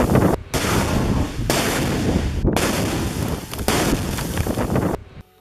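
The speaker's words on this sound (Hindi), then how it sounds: "एक लड़ाका रिमोट कंट्रोल के जरिए इन रॉकेट्स को आईडीएफ की तरफ ताबड़तोड़ तरीके से फायर कर देता है" Rockets fired by remote control toward troops in the Gaza war, heard as several loud, sustained rushing blasts that each run for about a second and are separated by short gaps, with no talk.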